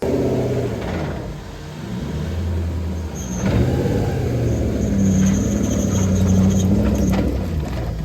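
A 4.0 V8-swapped Nissan 200SX runs on a dyno, its engine droning low and steady, then climbing louder with a rising rev tone, close and unbroken by talk.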